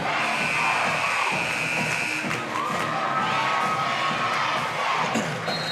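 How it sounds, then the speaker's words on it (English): A packed gym at a boys' high school district basketball tournament erupts in loud sustained cheering and shouting, with whistle-like tones and squeaks cutting through the roar. "It is so loud in here you can't hardly hear."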